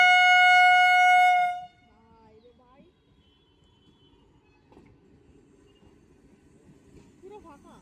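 A purple EMU electric local train gives a loud, sustained horn blast at a rail gate crossing, then the horn cuts off, leaving faint rumbling of the slow-moving train and soft background voices.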